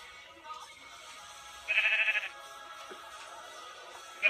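A sheep in a video game lets out a single brief bleat, faint against a quiet background of soft game sounds, with scattered small clicks around it.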